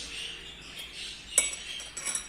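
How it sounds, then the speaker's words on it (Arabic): Fresh cream being mixed with eggs in a bowl, heard as soft, scattered clinks of a utensil against the dish, with one sharper tap near the middle and a few lighter knocks toward the end. No one speaks. "نخلط دابا القشده الطريه"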